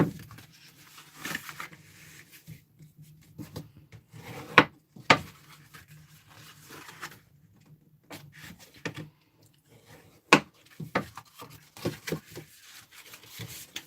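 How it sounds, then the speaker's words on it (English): A tool burnishes score lines on folded cardstock for a paper box project, giving soft scattered rubbing and scraping strokes with a few sharper taps, quiet and close with gaps of near silence. "So just go along and burnish all the score lines."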